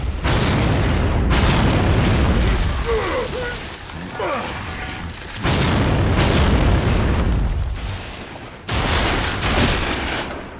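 A grenade blows up in a video game, with heavy booming blasts and bursts of gunfire in a fast, loud sequence and a voice shouting between the hits.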